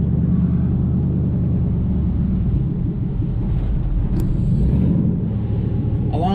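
A car with a newly built exhaust drives around the block, its engine giving a steady, loud, low rumble that stays constant throughout with no talking.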